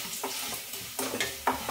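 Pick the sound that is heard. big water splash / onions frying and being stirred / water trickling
onions frying and being stirred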